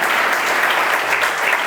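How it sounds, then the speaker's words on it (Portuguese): A church congregation at Victory Church Argentina gives a burst of loud, dense applause that fills the whole moment with steady clapping. "Aplausos ao Senhor."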